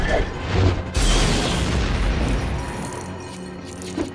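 Explosions in the Lego Star Wars video game, a loud sustained booming roar with crackling debris that gradually fades, heard alone without talk.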